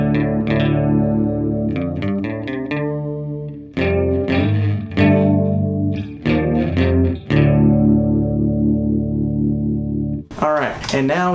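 An electric guitar runs through a Sondery Chorus pedal with depth set near 130, giving chords and single notes a shimmering, warbling doubled sound, loud and close, with a quick flurry of notes at the end.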